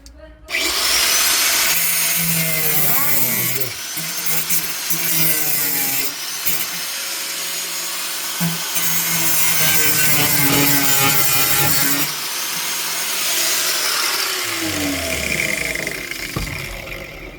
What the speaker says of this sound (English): Here we go back to the grinder again.